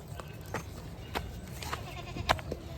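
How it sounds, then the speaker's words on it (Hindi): Goats being led out to graze on a rural farm bleat faintly in scattered short calls over a quiet outdoor background, a few sharper cries standing out near the end. "भैया अपनी बकरियां ले जाने लग गए चराने के लिए।"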